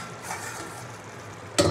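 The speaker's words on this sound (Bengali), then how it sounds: "তো আবারও শাকটা নাড়াচাড়া করে আমি ঢেকে দেবো" Red leafy greens (lal shak) being stirred while frying in a cooking pan: a low, steady sizzle with soft stirring, then a sharp metallic scrape or clink of the utensil against the pan near the end.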